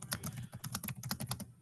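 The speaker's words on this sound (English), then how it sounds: "Here's some keys going." Someone types on a computer keyboard, a fairly quiet and rapid run of clicking keystrokes at an uneven rhythm.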